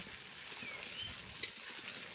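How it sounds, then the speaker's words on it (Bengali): Soft, steady sizzling of pointed gourd frying in oil, with a brief stirring clink near the middle; no voices. "পটলগুলোকে প্রথমে আমি ভেজে নিচ্ছি এইভাবে নাড়াচাড়া করে"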